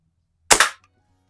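A Markham King model 1892 BB gun fires at a soda can outdoors: two sharp, close cracks in rapid succession, then a faint tick and quiet.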